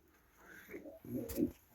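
Soft, low cooing from pigeons close by in a loft on a frosty day, a couple of throaty calls rising near the end over a quiet background.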